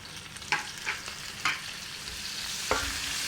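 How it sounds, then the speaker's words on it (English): Onions and spices frying in a pan for chicken biryani, a constant loud sizzle broken by a few sharp scrapes as the mixture is stirred, close up with no talk. "and give it a nice stir."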